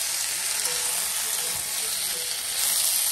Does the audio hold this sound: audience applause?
no